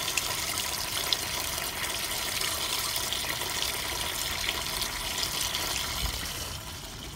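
Water gushes steadily through a Porsche 997 radiator during a coolant flush, a constant broadband rushing flow that stays loud and unbroken throughout, with no talk over it.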